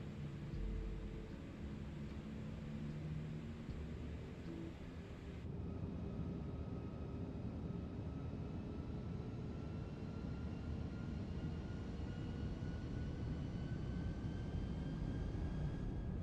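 Airbus A340 freighter engines spooling up for takeoff on runway 27 at East Midlands in MSFS 2024, a steady broad roar with rising tonal whine, fairly quiet and continuous without talk.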